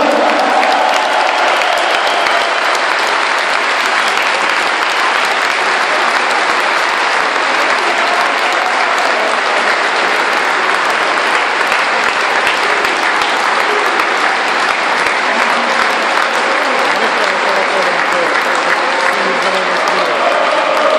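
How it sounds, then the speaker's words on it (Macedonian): A large crowd at an anniversary event for a Macedonian basketball team's win over Real Madrid applauds loudly and steadily for playmaker Boris Tsvetanov, with dense clapping and some cheering. "Дайте ми думата аплауз за Борис Цветанов!"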